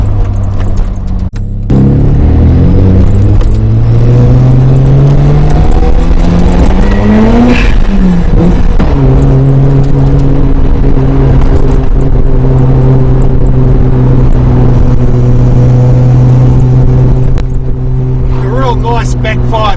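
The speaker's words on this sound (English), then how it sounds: "Nice backfire to a little pop just when you change gear" Loud 1996 Mazda RX-7 FD3S with a FEED widebody kit, its engine revving up and dropping through gear changes, pitch sweeping up then falling away, heard close and sustained with a brief pause near the start.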